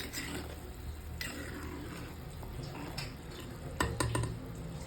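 A spoon stirring a pot of boiling stingray fish curry, faint scraping and soft clinks of utensil against the pot over a low simmering bubble, with a slightly louder clatter near the end.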